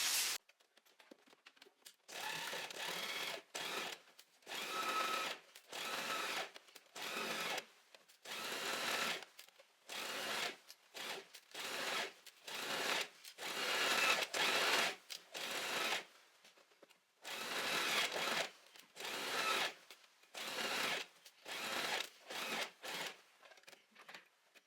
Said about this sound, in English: we're just gonna sew from here all the way to the other end